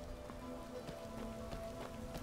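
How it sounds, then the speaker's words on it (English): Steady rain pours down in the video game Skyrim, a dense, soft patter of drops with occasional heavier splashes, moderately quiet and continuous throughout. "Rain, of course, as it is so common in Skyrim, begins pouring down."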